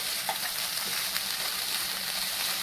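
Paneer roll filling fries in a pan, a dense, even sizzle with faint stirring scrapes, close and steady throughout with no voices.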